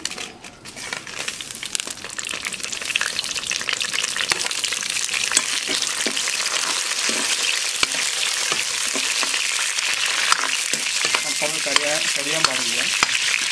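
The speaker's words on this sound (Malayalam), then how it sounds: "ഞാൻ അതിലിടേണ്ടത് തക്കാളി, ചെറിയ ഉള്ളി, വെളുത്തുള്ളി, ഉണക്കമുളക്, ഇതൊന്ന് വാട്ടണം നമുക്ക്." Tomato, shallots, garlic and dried chili sauté in a pan for an aloe vera curry cooked outdoors in a forest kitchen, a dense close sizzle with crackling and constant stirring scrapes, loud and continuous, no talking.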